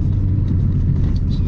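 A Vauxhall Corsa VXR with high mileage drives along, a steady loud road rumble and engine drone filling the short stretch without voices.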